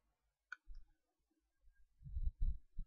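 A computer mouse gives a single sharp click, then a few faint soft taps and low thuds in an otherwise quiet room.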